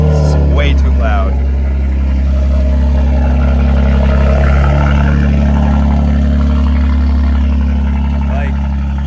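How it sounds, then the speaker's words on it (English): A BMW X3M engine idles loudly right after a cold start, a steady deep drone with strong low-end rumble running throughout, and speech is heard over it. "I'm gonna give you guys a cold start"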